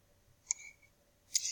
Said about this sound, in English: You're going to click, and then you're going to click Go.